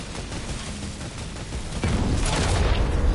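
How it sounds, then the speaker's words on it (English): An enemy plane blows up in a video game: steady rumbling combat noise swells into a deep, loud explosion boom that keeps roaring for over a second, with no voices. "I just blew someone's plane up, and they died in the explosion"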